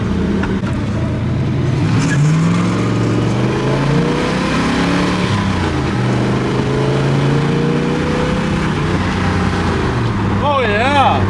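A V8-swapped Ram50 truck revs and accelerates hard, its loud engine note rising and falling through several pulls, with a voice talking over it near the end.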